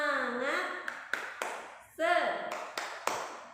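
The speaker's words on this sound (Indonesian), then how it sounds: "marilah kita lakukan tepuk semangat" Children perform the tepuk semangat spirit clap, sharp handclaps landing in a quick pattern between chanted voices, the claps crisp and near while the voices carry on around them.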